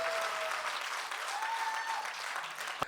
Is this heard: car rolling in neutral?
no